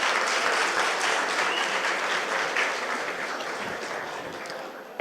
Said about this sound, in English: Guys, a huge round of applause for Sneha